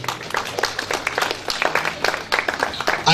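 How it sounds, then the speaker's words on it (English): An audience at an awards ceremony claps steadily, a close, lively patter of many hands with distinct sharp claps standing out, sustained without speech for the whole stretch. "A round of applause for the Hoosiers."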